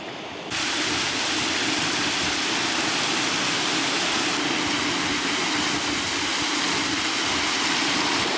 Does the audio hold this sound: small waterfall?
yes